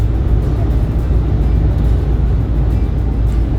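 A car cruises along on a Sunday drive, heard from inside as a constant low road and engine rumble with a steady hum and no talking.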